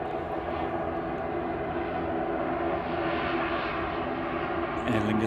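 A propeller airliner passes at Manchester Airport, its steady, loud droning roar sustained throughout, with faint chatter underneath and a brief crackle near the end.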